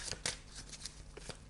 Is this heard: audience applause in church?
no